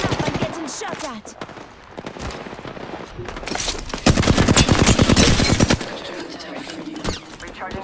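Rapid automatic gunfire in the video game Apex Legends, sustained bursts of close, loud shots with a particularly dense volley midway, mixed with game effects and a player talking over it.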